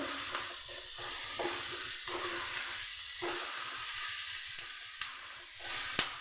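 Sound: cumin and coriander powder frying with ginger garlic

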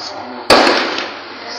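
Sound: gunshots during a bank robbery

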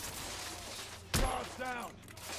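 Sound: gunfire in video game The Order: 1886

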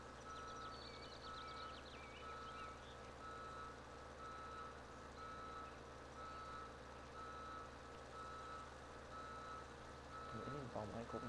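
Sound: vehicle reversing beeps in Landwirtschafts-Simulator 17 video game

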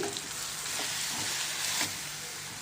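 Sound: stirring tomato and chili masala in a pan

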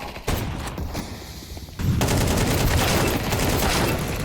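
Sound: gunfire in the video game Counter-Strike 2

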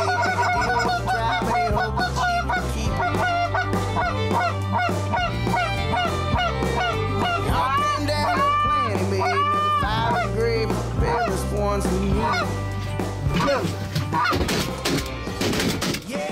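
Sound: geese honking during a goose hunt

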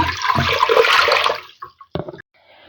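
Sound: pouring water into a pot

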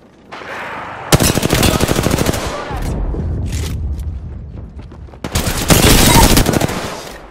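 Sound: gunfire in the video game Apex Legends

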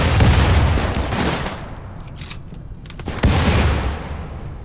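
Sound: bombs exploding amid gunfire in Rimworld video game

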